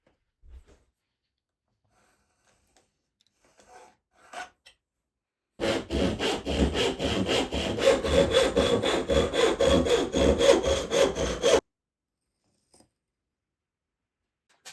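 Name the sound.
cutting a cherry wood triangle piece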